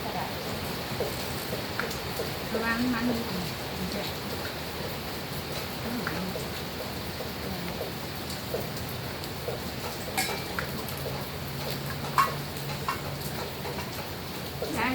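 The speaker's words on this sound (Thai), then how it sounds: "มันฝนตกนี่ละ" Steady rain patters continuously throughout, with a soft voice murmuring faintly in the background.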